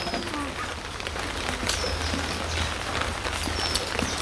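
Rain falls steadily in a rural village, a constant close hiss of drops on surfaces that fills the whole stretch, with faint bird calls scattered over it.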